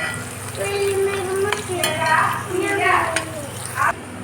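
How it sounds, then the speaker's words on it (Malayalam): Crispy chicken popcorn fries in hot oil, giving a continuous bubbling sizzle at close range with occasional utensil clinks. A person speaks over the frying throughout. "നമ്മുടെ ക്രിസ്പി ആയിട്ടുള്ള ചിക്കൻ ഫ്രൈ ഇവിടെ റെഡി ആയിക്കൊണ്ടിരിക്കുകയാണ്"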